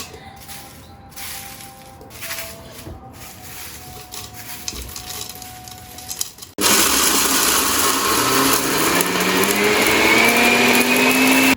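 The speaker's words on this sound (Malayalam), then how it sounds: "ഇനി ഇതെല്ലാം കൂടെ മിക്സിയുടെ ജാറിലേക്ക് ഇട്ടിട്ട് നമുക്ക് പൊടിച്ചെടുക്കാം." A mixer grinder grinds dried shrimp with the other ingredients for a chutney powder. A softer rattling run is followed by a loud, continuous high-speed whir that rises in pitch and lasts several seconds.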